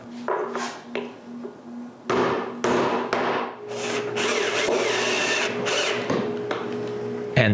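Sharp hammer blows strike T-nuts into the base of a shop-built wooden edge sander, a few spaced knocks followed by clustered impacts, with a motor hum running underneath.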